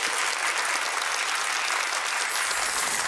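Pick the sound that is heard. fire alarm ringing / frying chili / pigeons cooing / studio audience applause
studio audience applause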